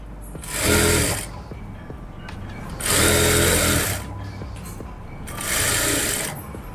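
A sewing machine stitches a salwar in three loud, steady bursts of about a second each, separated by quieter pauses.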